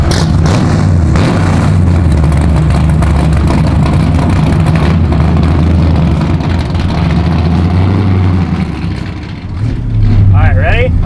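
A 1968 Camaro roars continuously while drifting, its engine revving loud and close and its tires shredding, with a brief dip near the end before the engine surges again.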